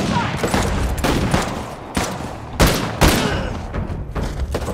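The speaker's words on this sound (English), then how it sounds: "That sounds like another shotgun." Shotgun fire in Uncharted 4: Lost Legacy, heavy booming blasts in a dense firefight, several loud shots at uneven intervals over a continuous rumble of gunfire.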